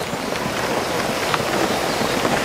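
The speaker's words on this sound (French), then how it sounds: "Il pleut, en réalité il pleut." Steady rain falling outdoors on wet bonsai trees, a constant soft hiss with faint scattered drips, alone without talk.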